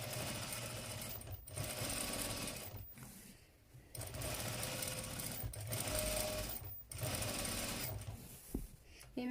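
A sewing machine stitches fabric for a little girl's summer dress, running in long steady whirring bursts broken by several brief pauses, close and clear with no talking.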